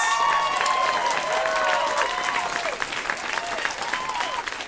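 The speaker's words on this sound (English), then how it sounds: "huge round of applause for Todd Ness!" A comedy club audience gives a loud round of applause for a stand-up comic, with dense clapping and some cheering and whoops rising over it, easing slightly toward the end.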